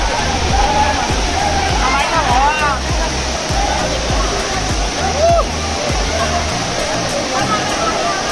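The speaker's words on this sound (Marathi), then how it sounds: "बाहुबलीला हाच वॉटरफॉल यूज केलेला वाटतं" The Juinagar waterfall roars as a loud, continuous rush of falling water, close by, while people talk over it.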